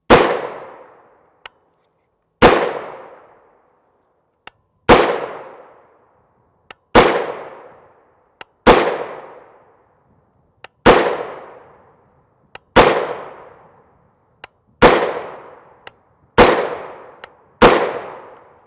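A 10.5 inch PSA-built AR rifle chambered in 300 Blackout fires 110gr V-MAX rounds: ten loud, sharp cracks, each trailing off in a short ringing decay, spaced about two seconds apart with faint clicks between.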